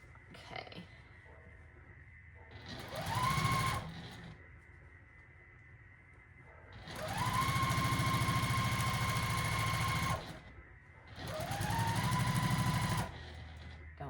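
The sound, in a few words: sewing machine stitching quilt block seams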